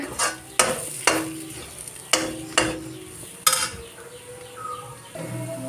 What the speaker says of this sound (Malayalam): മഞ്ഞൾപ്പൊടിയും ചേർത്ത് കൊടുക്കാം കേട്ടോ നന്നായിട്ടൊന്ന് മൂക്കണ വരെ നന്നായിട്ടൊന്ന് മിക്സ് ആക്കിക്കൊണ്ടിരിക്കുക